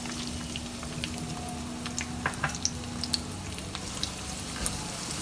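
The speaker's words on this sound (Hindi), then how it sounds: "कढ़ाई में हमने ऑयल डाल लिया है। ऑयल थोड़ा सा गर्म हो चुका है। अब इसमें हम डाल देंगे प्याज" Chopped onions fry in hot oil in a kadai, a close, even sizzle with scattered crackles and pops and a few light stirring clinks.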